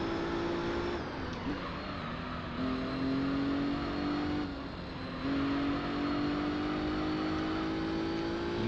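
Car engine revving steadily in Gran Turismo 3 as a hot hatch is pushed through corners, with pitch rising and dropping through gear changes, loud and continuous, and a driver talking in places.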